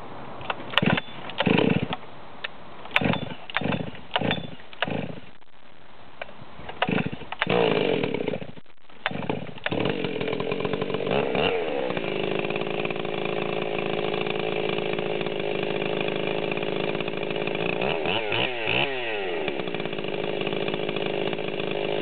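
A Stihl 038 chainsaw with a Bing carburetor is blipped in short loud revs, then held at a steady high scream before dropping and briefly rising again, close by.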